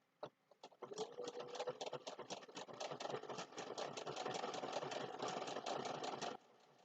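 Sewing machine stitching fabric for a pumpkin snack mat, a steady fast mechanical whirring with quick rhythmic needle clatter that runs continuously for several seconds, then stops.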